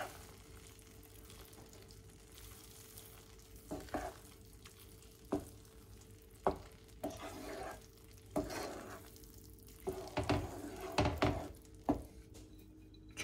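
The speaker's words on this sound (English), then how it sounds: "Mix it through." Seafood risotto being mixed in a pan with the heat off, producing scattered soft scraping and stirring strokes in irregular bursts over a low steady background, with no one talking.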